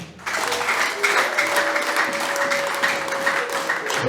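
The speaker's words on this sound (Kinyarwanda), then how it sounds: "Duhereze Imana amashyi." A church congregation breaks into sustained applause during a service, many hands clapping together loudly and evenly, with a faint held tone and some voices in the room beneath the clapping.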